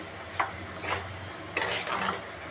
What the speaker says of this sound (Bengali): সুজিটাকে ভালো করে ভাজা করব